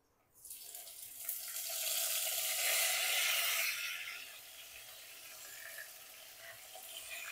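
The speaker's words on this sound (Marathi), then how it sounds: "हे जे वांगे आहेत ते आपल्याला आता तेलामध्ये तोपर्यंत परतायचे आहेत" Stuffed eggplants sizzle as they hit hot oil in a pan, a loud hissing burst that swells over a few seconds, then settles into a steadier, softer crackle with no talking.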